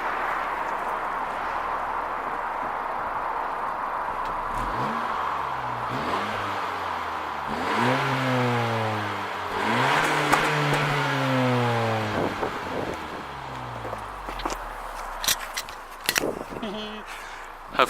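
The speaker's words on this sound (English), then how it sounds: "this one has a dual exit exhaust, which is functional and makes some nice noises" A 2018 Honda Civic VTEC Turbo, 182 bhp, revs through a functional dual-exit exhaust, rising and falling in several quick blips before settling back to idle. The engine sounds fairly close but not overly loud, and someone talks at the start and end.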